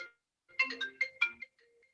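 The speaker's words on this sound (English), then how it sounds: "Sorry, my phone's gone off" Mobile phone ringtone going off during a council committee meeting, a short bright melodic jingle of several quick notes, clear and close against near silence.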